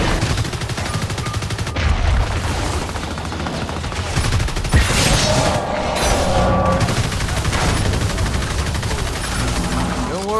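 Gunfire in the video game Evolve comes as loud, continuous rapid shooting mixed with booming impacts and game effects, dense and close throughout with no pauses.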